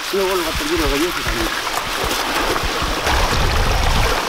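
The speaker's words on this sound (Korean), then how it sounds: "반쯤 왔을 때 들려오는 물소리가 반갑습니다." A mountain stream on Ulleungdo island rushes and splashes steadily nearby, a broad hiss filling the background while a voice speaks briefly over it at the start.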